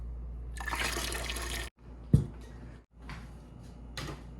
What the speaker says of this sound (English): just dump the water out.